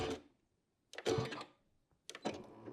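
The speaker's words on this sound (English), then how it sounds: "I'm gonna sew along. I can reverse just like you would want to, and I can cut the threads." A Janome Continental M6 sewing machine whirs in three short bursts of stitching and thread cutting, close and fairly quiet, with silent pauses between.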